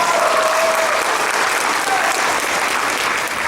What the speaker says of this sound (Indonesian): Mari kasih aplaus yang meriah